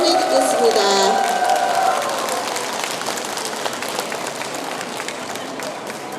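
A crowd at a Buddhist dharma talk cheers and applauds to welcome a senior monk. Voices ring out over the clapping at first, and the applause then tapers to a softer, steady patter.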